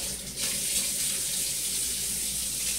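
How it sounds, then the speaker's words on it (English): A kitchen tap runs steadily into a sink while hands are washed under the stream, a constant close hiss of water lasting the whole moment with no voices. "Let me wash my hands."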